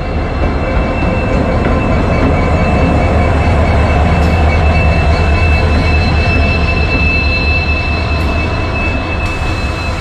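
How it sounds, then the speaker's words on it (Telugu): A train rumbles loudly and steadily nearby as it arrives slowly in the Thar Desert on the Jodhpur to Jaisalmer line, with a thin metallic wheel squeal running over the heavy rolling noise. "సో ట్రైన్ అయితే వస్తుంది"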